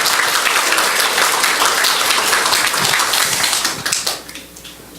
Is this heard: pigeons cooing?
no